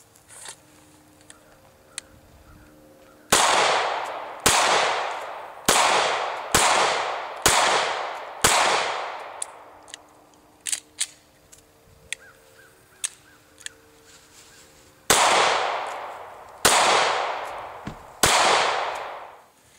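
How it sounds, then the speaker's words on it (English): Walther P99 AS pistol fired at an outdoor range, ten sharp loud reports in two bursts, five spaced shots then a pause with faint clicks before more shots, each echoing briefly. "I'm going to be firing the P99 Walther"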